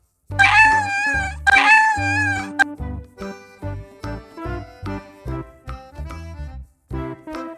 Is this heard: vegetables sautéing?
no